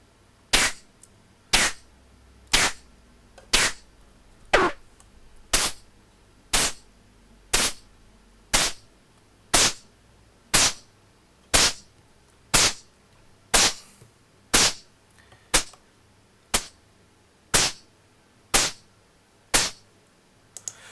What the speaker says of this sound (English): Like for the kick drum, we can change the mode of the envelope for add clickness at the start of the sound.